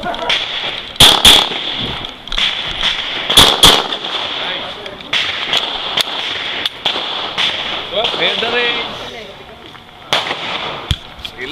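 Gunshots at a shooting range ring out as sharp, loud reports, a pair near the start and another pair mid-way, then scattered single shots, with people talking and calling commands between them.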